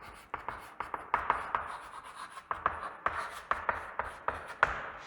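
Chalk or marker writing on a board during a math lesson on polynomials, a steady run of short scratchy strokes and taps in quick irregular rhythm, close and moderately loud with no talking.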